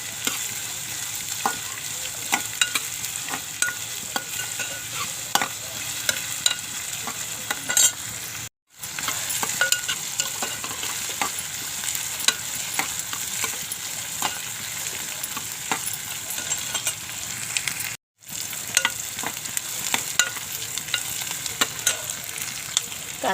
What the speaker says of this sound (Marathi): कांदा भाजत आलाय